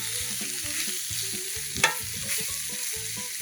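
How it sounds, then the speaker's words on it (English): Stew meat browns in a Dutch oven with a steady, close frying hiss, one sharp knock partway through, and a rhythmic low thumping pattern running underneath; no one speaks. "now while we got our stew meat in there, browning up"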